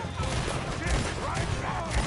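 Dense, chaotic gunfire during a shootout in the video game Red Dead Redemption 2, loud and continuous with overlapping shots, under shouting voices.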